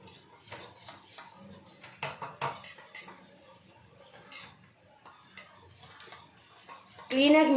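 Ingredients being stirred and mixed in a cooking pot, with scraping and clinking of a spoon against the pot in irregular bursts at moderate loudness, ending in a louder sizzling burst.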